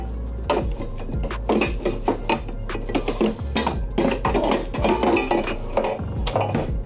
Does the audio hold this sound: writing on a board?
no